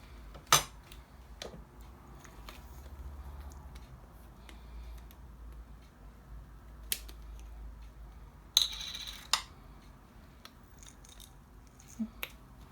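Chopped tabbouleh salad ingredients are tossed in a bowl, giving a few sparse, sharp clinks and taps of a utensil against the dish. The clinks are quiet and spaced apart over faint background, with no talking.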